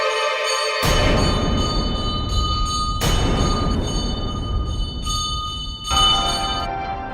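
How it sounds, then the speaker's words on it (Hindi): A doorbell chimes in a home, three bright ringing tones spaced about two seconds apart, each decaying slowly with a clear metallic ring, loud and close with no talk. "कब से घंटी बजा रही हूँ, सुनाई नहीं देता क्या?"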